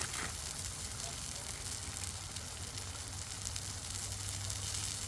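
Oil sizzles softly on a Blackstone griddle while noodles for chicken lo mein warm, a faint continuous hiss with a low rumble underneath.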